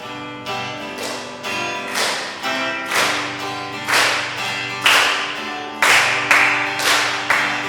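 A church congregation claps in steady unison while singing the hymn 구주의 십자가 보혈로, sharp regular claps landing on the beat over tonal sung chords throughout.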